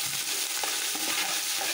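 Peanuts frying in a pan with green chilies and curry leaves for poha upma, a dense steady sizzle with a few soft stirring scrapes, close and continuous with no voices.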